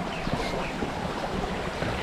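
Glacier-fed river water in Daksum, Kashmir, rushing past houses, a steady broadband wash of flowing water up close, with no one speaking.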